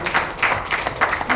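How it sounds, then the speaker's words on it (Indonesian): Office audience at a company profile presentation giving brief applause: a short, uneven patter of a few hands clapping in soft bursts, fairly close, over a low room murmur. "tepuk tangan dulu untuk kantor kita"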